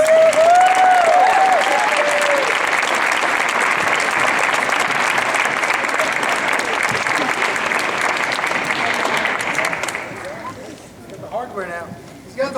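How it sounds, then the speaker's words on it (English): An audience gives loud, sustained applause at a player-of-the-month plaque presentation, the clapping fading out near the end while a voice speaks briefly over it. "So we can give him a round of applause"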